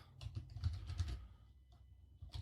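Fast bursts of close computer keyboard typing, a rapid patter of clicks that pauses briefly before a few more keystrokes, heard alone without speech.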